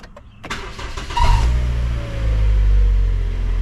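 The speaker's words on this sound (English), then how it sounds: "I'm going to start the car." A 2015 Toyota Corolla with a VVT-i engine cranks briefly and fires up, then settles into a steady, loud idle that swells slightly as it runs, close by.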